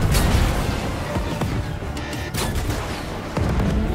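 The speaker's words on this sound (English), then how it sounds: "Let me fire the cannon." A cannon fires repeatedly in a mech video game, with booming blasts and explosive crashes layered over a dense, loud rumble of game audio.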